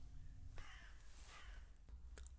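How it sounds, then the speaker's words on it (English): A crow caws a few times outdoors, short harsh calls at a moderate distance over a faint background hum, with no one speaking. "Oh, I'd like to think that was the crow signalling their approval."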